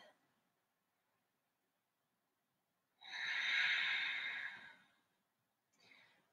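A deep breath during a shoulder-mobility yoga stretch, one long audible exhale lasting about two seconds, close and fairly loud, then a shorter, softer breath near the end, with quiet in between.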